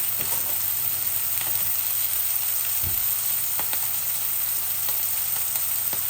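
Spices going into onion and fish head frying in a pan, a continuous bright sizzle with a few faint clicks of utensils, steady and close throughout without talking.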